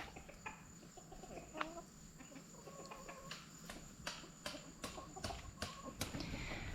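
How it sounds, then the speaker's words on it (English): Chickens cluck softly while pecking at fresh-mowed grass on a homestead, with faint scattered clucks and insect chirps in a quiet outdoor setting. "The chickens are loving the fresh mowed grass"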